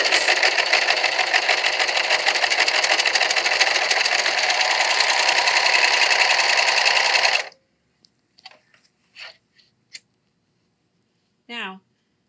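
Sewing machine stitching a seam on a fabric face mask, a loud close steady whir with rapid needle rattle for about seven seconds, then stopping, followed by scattered light clicks and fabric handling.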